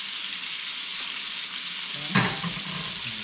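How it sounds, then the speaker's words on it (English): Prime ribeye for fajitas sears in a hot pan with a steady, bright hiss throughout, then a brief louder sizzle and clatter as the meat is stirred or moved. "Got that bad boy sizzling."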